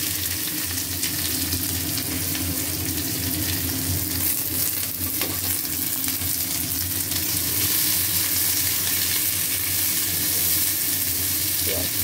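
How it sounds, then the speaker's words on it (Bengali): Chopped onion sizzles and fries steadily in a pan of hot oil with cumin, garam masala and bay leaves, a continuous close crackle with occasional stirring scrapes. "এবারে ফোড়ন দিচ্ছি পেঁয়াজ।"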